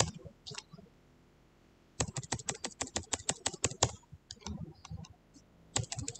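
A computer keyboard clatters with a few scattered key presses, then a fast run of sharp, close clicks, a pause, and another short burst of keystrokes.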